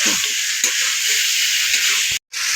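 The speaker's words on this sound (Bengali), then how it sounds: "এখন মাংসটা খুব সুন্দর করে কষানো চলছে" Meat sautéing in a pan gives a steady, close, bright sizzle, with a few soft stirring scrapes and a brief dropout near the end.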